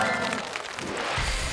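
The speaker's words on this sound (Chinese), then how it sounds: "掌声鼓励。" A studio audience at a television quiz show breaks into broad applause, with dense, even clapping that fills the whole short stretch.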